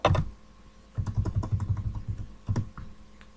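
Keys clatter on a computer keyboard as text is typed, one sharp click and then a steady run of quick close taps, with a brief pause and a final burst near the end.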